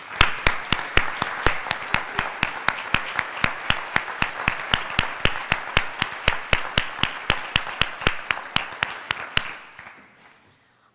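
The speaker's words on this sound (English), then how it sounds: "Please join me in recognizing these outstanding scholars as they stand and receive our applause." Steady applause from a crowd at a college honors convocation, sharp claps repeating at an even pace for about nine seconds before quickly dying away into quiet.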